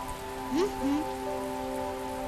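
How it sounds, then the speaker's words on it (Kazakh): Steady rain hisses in the background under a constant low hum, with a couple of brief rising chirps early on. "қарашы, жаңбыр қатты жауып жатыр, иә?"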